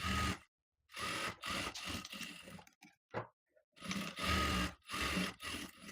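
Bursts of sewing machine stitching run along a princess-cut blouse seam, close and clear, with short pauses and a few isolated clicks between runs.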